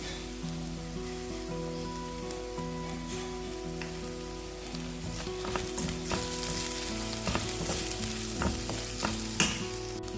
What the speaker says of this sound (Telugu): ఇప్పుడు సాల్ట్, పసుపు కూడా వేసుకొని ఫ్రై చేసుకున్నాము